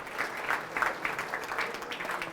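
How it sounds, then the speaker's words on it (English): Applause from a dinner audience at an end-of-year presidential dinner, a steady patter of many hands clapping at moderate loudness, slightly distant and without speech. "Let's give them another hearty clap."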